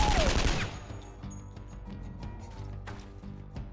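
A burst of loud gunfire in the video game Skyshine's Bedlam, a rapid volley up front that cuts off sharply and leaves faint clicks and mechanical game sounds behind.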